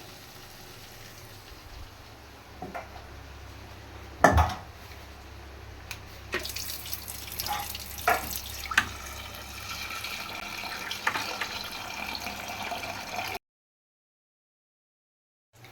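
Fresh ginger washed under a running kitchen tap, with a steady stream of water splashing into the sink and a few louder knocks and splashes as the pieces are rinsed and handled, then sudden silence.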